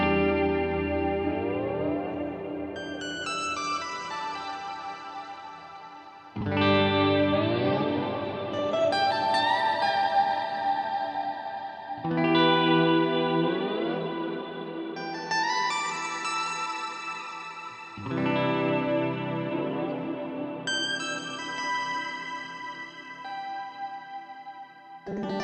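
Guitar chords ring out with a shimmering octave-up pitch shift from an HX Stomp layered on top, repeated in several long strummed phrases with trailing echoes.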